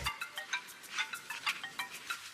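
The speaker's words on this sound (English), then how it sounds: "This music is so bland, it actually sounds exactly like my ringtone." A bland film soundtrack from Forest Warrior plays a bright, chiming electronic melody in quick repeated notes like a phone ringtone, fairly quiet and tinny, with no one talking.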